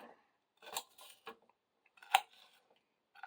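A knife dices onions on a cutting board, making a few crisp, sparse chopping clicks and scrapes in a quiet kitchen, spaced irregularly.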